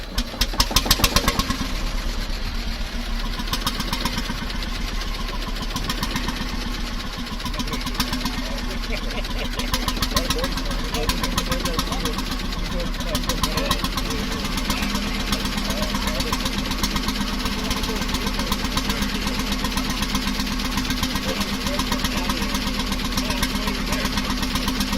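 A vintage engine with a heavy flywheel idles steadily, giving a fast, even mechanical thumping that stays close and constant after a brief louder start, with no break in its rhythm.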